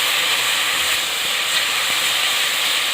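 Ginger garlic paste sizzling in a pan with lightly browned fried onions, a steady loud hiss that stays even throughout with no talking.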